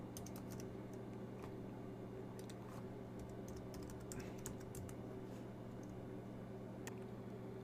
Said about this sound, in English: So I typed in my password and I log in